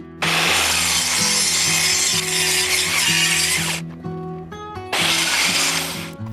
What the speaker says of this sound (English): set up a stable platform to make the cut and redraw the cut lines so they're really clear and I can cut them in the right place.